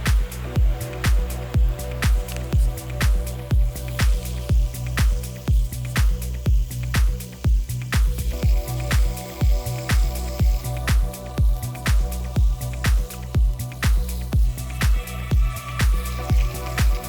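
Mountain spring water, flowing down from the ground and kicked off a metal sign, pours into a basin, making a steady trickle broken by rhythmic dripping splashes and squishy pulses roughly every half second, close and fairly loud throughout.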